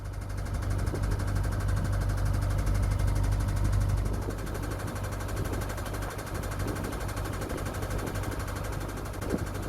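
A canal narrowboat engine chugs steadily and close by on the Lancaster Canal, with a prop clogged by debris, keeping up a continuous low rhythmic rumble that eases slightly partway through.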